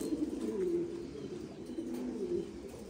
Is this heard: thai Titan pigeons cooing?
yes